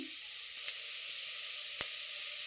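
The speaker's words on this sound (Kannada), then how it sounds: "ಕಟ್ ಮಾಡಿ ಇಟ್ಕೊಂಡಿರೋ ತರಕಾರಿನ ಹಾಕೊತಾ ಇದ್ದೀನಿ ಸ್ವಲ್ಪ ತರಕಾರಿ ಫ್ರೈ ಆಗಲಿಕ್ಕೆ" Chopped vegetables frying in a pan for millet pulao give a steady soft sizzle and hiss, close and quiet, broken by two faint clicks of stirring.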